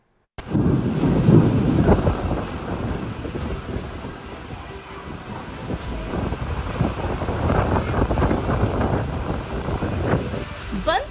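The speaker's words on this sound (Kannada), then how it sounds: "ಗುಡುಗು ಮಿಂಚಿನ ಜತೆಗೆ ಬಿರುಗಾಳಿ ಸಹಿತ ವರುಣ ಬಂದೇ ಬಿಟ್ಟ" Steady heavy rain and gusting wind roar over low rumbles of thunder, with wind buffeting the microphone throughout, during a thunderstorm with strong wind in Karnataka, India.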